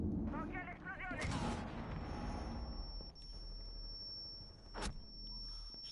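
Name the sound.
explosion in the video game Rainbow Six Siege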